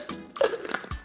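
A couple of ice cubes dropped into a cocktail glass while mixing a Cherry Delight, giving a quick series of close, light clinks and knocks within about a second.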